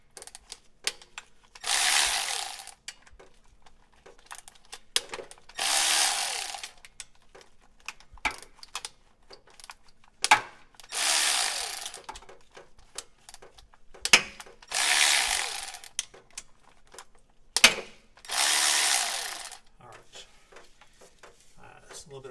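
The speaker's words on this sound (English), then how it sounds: "an 8mm, get this pressure switch off. Just going to loosen them for a second first." A hand ratchet loosens 8mm bolts on the pressure switch of a GM 4L80E transmission still in the vehicle, in about six short, crisp clicking bursts separated by quiet pauses and faint handling noise.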